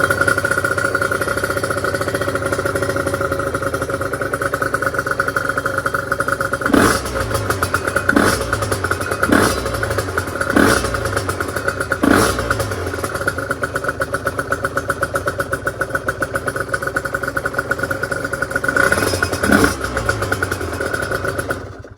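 On a freezing morning, an Aprilia RS125 motorcycle engine runs with the choke on, idling in a buzzy drone punctuated by a series of sharp throttle blips, several in quick succession and more near the end.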